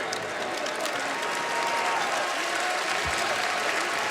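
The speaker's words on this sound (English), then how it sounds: "Nice round of applause for James Daniel, who goes out with 14 point" Crowd at a college basketball game between North Carolina and Tennessee applauds steadily, a dense, even clapping that holds for several seconds at moderate distance.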